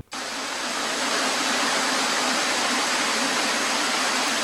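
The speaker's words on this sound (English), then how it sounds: "I like the sound of that waterfall" A waterfall pours in a steady, dense rushing roar that starts abruptly and then holds constant, broad and full with no breaks or voices.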